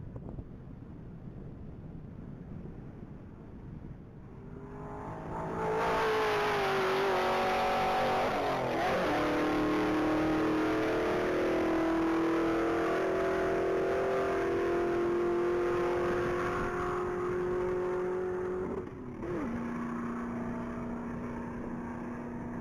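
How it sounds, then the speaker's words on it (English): A black 2024 Cadillac CTS-V Blackwing launches hard at a top-speed mile event, engine note climbing loud through rising gears with a shift break near the end, under steady wind rush. "vehicle 909 is getting ready to take off the line. That's a black 2024 Cadillac CTSV Blackwing."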